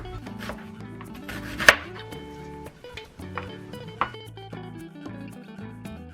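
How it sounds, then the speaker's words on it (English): A knife mincing garlic and thinly slicing onion strikes a cutting board in quick, irregular chops, close and crisp, with a few sharper knocks standing out among the steady taps. "I'm just gonna mince it. Same with the onion, we're gonna cut it thinly."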